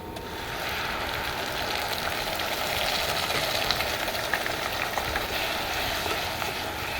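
Onion paste fries in hot oil in a pan for Bangladeshi egg korma, giving a dense, even, close sizzle that holds steady for several seconds without any talking.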